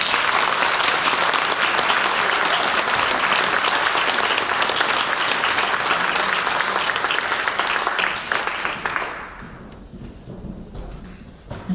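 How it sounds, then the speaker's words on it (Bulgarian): Sustained applause from an audience at a Bulgarian radio awards ceremony, dense and steady clapping for about nine seconds before it dies away to near silence. "Аплодисменти!"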